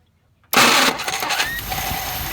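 An old engine started with no choke: after a moment of quiet the starter engages abruptly, and the motor catches and settles into a loud, rough running roar close by.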